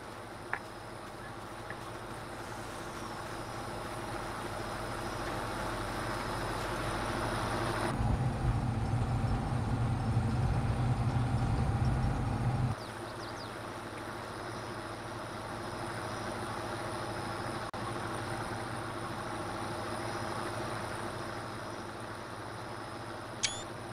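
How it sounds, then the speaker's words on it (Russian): A tractor engine idles steadily in Farming Simulator 22 during field sowing work, a continuous low rumble that swells louder and rougher for a few seconds midway before settling back to a steady hum. "Хорош, трактор мне нравится."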